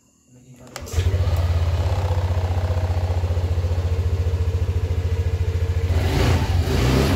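Yamaha Aerox 155 scooter with an error 12 fault: the starter catches and the engine fires up within a second, then settles into a loud, close, steady idle with a fast pulsing rhythm.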